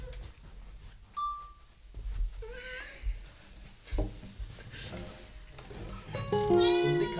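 A cat meows several times in short, rising calls amid indoor background noise, while people talk quietly nearby.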